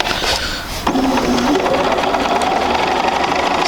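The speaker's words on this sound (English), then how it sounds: "So I'm sewing right on the line" A sewing machine runs steadily while stitching quilt seams, a fast, even mechanical whir close by that pauses briefly near the start before continuing without a break.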